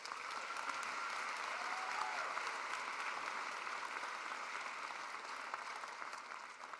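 Audience at a 2019 fall university commencement ceremony applauding graduates after their names are read, a steady, dense wash of clapping from a large crowd, sustained and even throughout.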